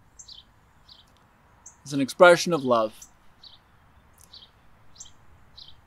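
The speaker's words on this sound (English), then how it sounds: "we can appreciate the birds singing" Birds sing outdoors in short, scattered high chirps that repeat through the whole stretch, fairly faint, with someone speaking briefly in the middle.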